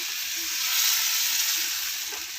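Egg appam batter sizzles in a hot appam pan with a steady, close, bright hiss of frying that swells slightly and holds evenly throughout, with no talk.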